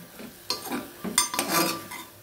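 Chana chaat being stirred in a pan, with a few brief, close metallic scrapes and clinks of a spoon against the pan and a faint sizzle underneath.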